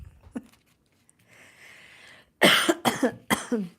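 A speaker coughs several times in a row, loud and close, with harsh bursts following a stretch of faint background noise.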